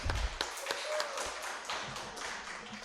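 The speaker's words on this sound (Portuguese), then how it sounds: "primeiro uma salva de palmas para vocês" A round of applause from a gathering at a Santa Casa charity hospital, heard as faint, scattered claps and taps that fade quickly, with no voices over them.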